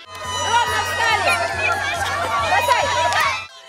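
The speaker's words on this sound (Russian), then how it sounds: "Отлично поддерживали игроков позитивными кричалками болельщики, в числе которых были и малыши, и взрослые." Spectators, toddlers and adults alike, cheer and chant at a children's relay race at a stadium, a loud, steady crowd roar with overlapping voices, over a regular low thudding beat.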